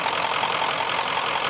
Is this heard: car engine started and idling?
yes